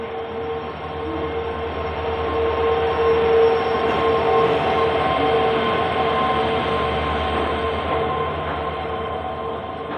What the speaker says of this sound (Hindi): ये हमारी ट्रेन आ गई प्लेटफार्म नंबर 1 पे